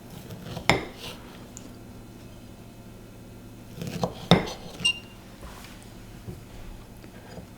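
Knife cutting a baked Bakewell tart on a plate, a few sharp clinks of metal on china separated by quiet pauses, close and clear.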